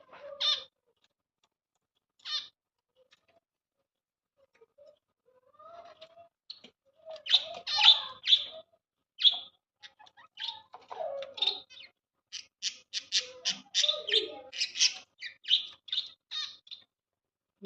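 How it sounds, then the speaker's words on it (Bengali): Pet zebra finches and society finches give short, sharp chirps and calls, sparse at first and then in busy clustered bursts. They are close and clear against a quiet room, with no talking. "নতুন পাখিটা কিভাবে ডাকছে দেখতে পাচ্ছ"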